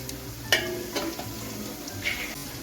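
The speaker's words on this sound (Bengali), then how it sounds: "পেঁয়াজটাকে আমি একটু ভেজে নিচ্ছি" Onions fry gently in a pan over medium heat for mutton polao, a faint steady sizzle with a few scattered clinks of a stirring utensil, close and quiet.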